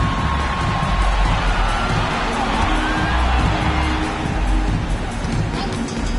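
A basketball arena crowd during a semifinal game cheers and roars steadily and loudly throughout, a dense sustained wall of voices with a few whoops on top.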